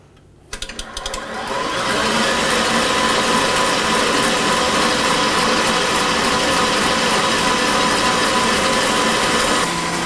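A KitchenAid Commercial 8-quart stand mixer ramps up to its top speed of 10 and holds a loud, steady mechanical whir with gear rattle, close up and alone.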